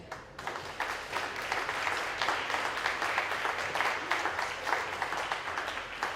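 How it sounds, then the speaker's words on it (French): Sustained applause from a cabaret audience at a charity show in Orp-Le-Grand, steady clapping filling the room for several seconds after a brief quiet start, with no voices over it. "Je vous demande des applaudissements pour Christian."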